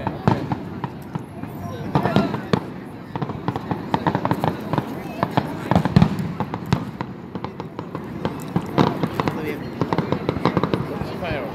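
Fireworks going off outdoors, a dense run of sharp pops and crackles spread throughout, loud and close, with people talking over them.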